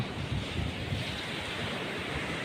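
Sea waves washing onto the shore at Willie Mac Beach Resort in Sariaya, Quezon, in the Philippines: a steady, hissing wash of surf with soft low surges near the start, heard alone.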